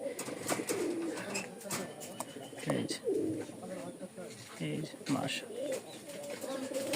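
Giribaz pigeons coo repeatedly in low, throaty bursts, several birds close by, over a steady rustling background.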